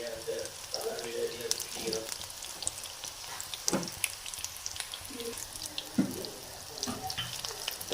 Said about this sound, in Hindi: इधर हमारा ऑयल भी गर्म है, तो एक एक करके फ्राई करते हैं